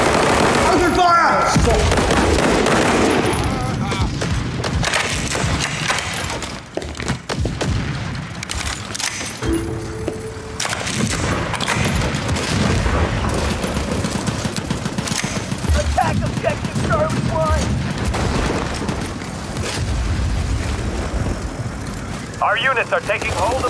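Dense gunfire and explosions fill a World War 3 video game battle, with rapid weapon bursts and booms running continuously and loudly throughout, while radio-style voices call out over the combat.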